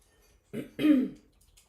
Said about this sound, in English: I feel like I'm gonna be clear my throat for a minute there